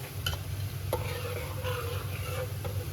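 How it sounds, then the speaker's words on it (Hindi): Black pepper tipped into hot oil for a daal tempering in a home kitchen, giving a steady close sizzle with faint stirring clicks, no talking. "अब इसका बघार लगाने का टाइम आ गया है। और अब इसमें डालूँगी मैं ये काली मिर्ची"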